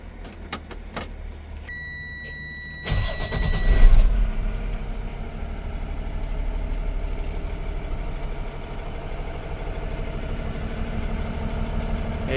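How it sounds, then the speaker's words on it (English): A 2020 Freightliner M2 box truck with liftgate cranks and its diesel engine catches, surging briefly before settling into a steady, rumbling idle. Some clicks and an electronic chime sound before the start. "Let's run this vehicle."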